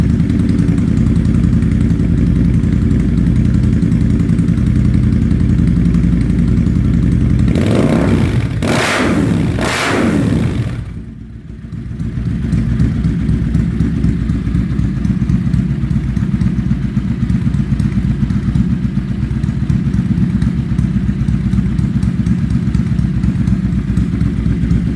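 A 2000 Suzuki VZ800 Marauder motorcycle engine with rebuilt carburetors rumbles loudly, briefly catches and sputters as it fires up, then settles into a steady, close, throbbing idle.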